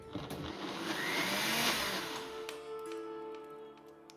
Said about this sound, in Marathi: हा जो ब्लेंडर मी यूज करते ज्युसर म्हणून ही वापरते तर हा युअर फूड लॅबवाल्यांचा आहे ब्लेंड लॅब प्रो